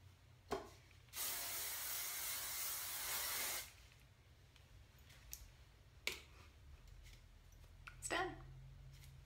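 A single sustained hairspray burst hisses for about two seconds, close to the mic, framed by a few soft clicks and handling noises.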